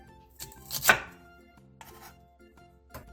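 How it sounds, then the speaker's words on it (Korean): Knife slicing one onion into thick rounds about 2 cm wide on a cutting board, a few quiet crisp cuts with one louder thunk, faint and close, with no talk. "양파 한 개를 2cm 정도 두께로 두껍게 통썰게 해주세요"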